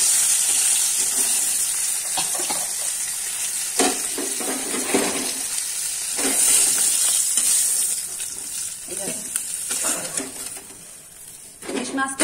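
Hilsa fish pieces frying lightly in hot oil, a loud continuous sizzle and hiss with occasional stirring scrapes throughout.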